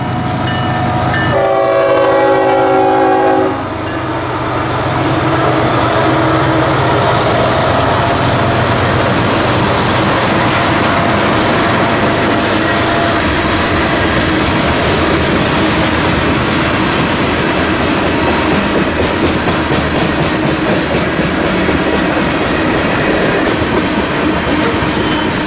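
A freight train climbs a hill toward Rome, Georgia with engines wide open, rumbling past with a loud, steady roar and rhythmic clatter, its horn sounding in a short multi-tone blast near the start.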